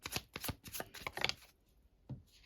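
Tarot cards shuffled and flipped by hand: a quick burst of crisp riffling card slaps for about a second and a half, then a pause and a single soft flip, close and clear with no talk.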